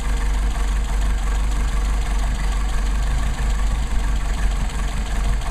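A Mercedes 190SL engine on Solex 44PHH carburetors idles loudly and close by, a steady low rumble with an even, slightly uneven-firing pulse and no voices.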